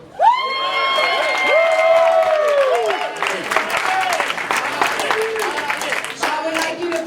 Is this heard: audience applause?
yes